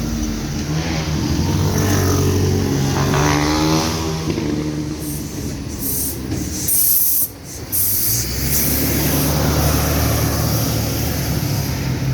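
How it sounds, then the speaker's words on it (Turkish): A bus rolls past on a road in a residential area of Bahçeşehir, Istanbul, a loud broadband rush with hissing and engine rumble that builds, briefly drops away, then continues as traffic noise. "Tamam otobüs geçsin gençler."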